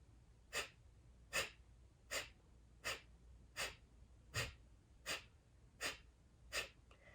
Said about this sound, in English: quick release of your breath that you'll hear